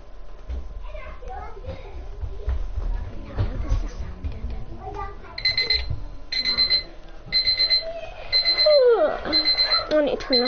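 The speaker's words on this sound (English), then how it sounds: "Set alarm for 7 o'clock." Alarm clock in a Fortnite roleplay game ringing in repeated bursts of high electronic beeping, loud and close, while children talk underneath.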